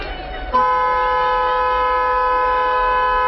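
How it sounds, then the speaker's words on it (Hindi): A train's horn toots once and holds as one steady, sustained tone after a brief stretch of low background noise. "आवाज आ रहा है रेलगाड़ी चलने का?"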